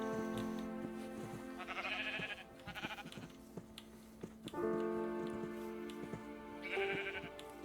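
Sheep bleating in a farming video game, several drawn-out, harmonic bleats from a few animals overlapping at moderate volume against a faint background, no talk.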